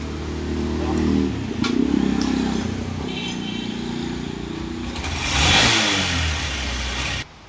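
A Honda Shine BS6 motorcycle engine with an ECM fault starts and idles, then revs up loudly for a couple of seconds before cutting off abruptly, close by.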